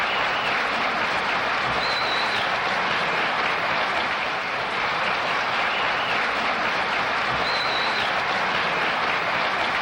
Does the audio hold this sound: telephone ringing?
no